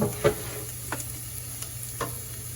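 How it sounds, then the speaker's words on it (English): Tomato sauce stirred into Cuban chicken and rice in a pot, a few soft separate scrapes of a spoon at the start, middle and end over a quiet steady background, no voices. "and stir it all together"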